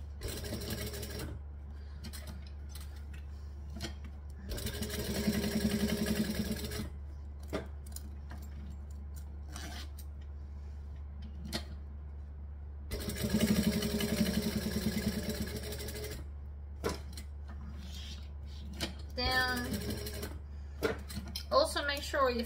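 A sewing machine stitches around a zipper in two steady runs of mid-pitched motor hum, separated by a pause, under a constant low background drone and a person talking.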